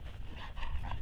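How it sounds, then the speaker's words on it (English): A young dog makes short, close vocal sounds, a quick yip-like bark mixed with whimpering and panting, in a brief burst with no clear talk over it. "Atta boy, good dog, Ruger."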